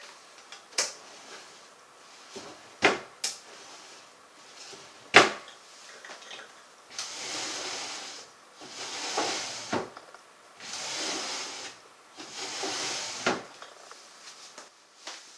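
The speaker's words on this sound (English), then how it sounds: "listen to the difference between a taped drawer and a drawer as it's delivered from the Bassett Company" Wooden dresser drawers from the Bassett Company slide open and shut, some taped underneath and some untaped: sharp knocks and clacks alternate with several longer rasping scrapes, close and clear, with no talking.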